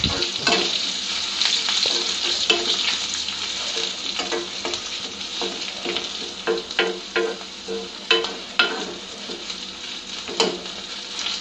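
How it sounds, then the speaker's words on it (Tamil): Crushed unpeeled garlic sautéing in oil for mango pickle, a close continuous sizzle with frequent spoon scrapes and clacks against the pan. "நல்லா வதக்கி விட்டுருங்க."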